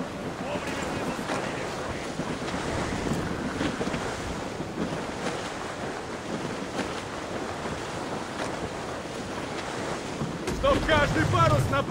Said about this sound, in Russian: Каждый парус наполнился ветром! Буря!